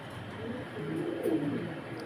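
Soft, low pigeon coos murmur faintly in a quiet setting, a few gentle rolling calls close together.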